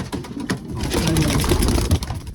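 Pigeons coo softly in a loft, a steady murmur of overlapping calls from several birds, fairly close.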